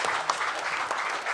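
An audience at a school insurance-awareness quiz finale claps for a team, a brief dense burst of applause from many hands at moderate distance, with no speech over it.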